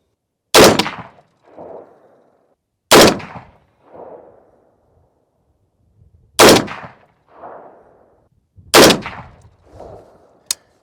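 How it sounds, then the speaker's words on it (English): Four loud, separate rifle shots fired at a shooting range while training with a thermal sight, spaced a couple of seconds apart, each sharp crack followed by a short echoing tail. "So that's why I shot a 4th round."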